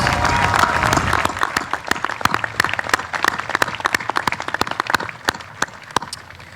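Graduation-ceremony audience applauding the concert band and senior chorus at a high school commencement: full clapping at first that thins into scattered, individual claps trailing off.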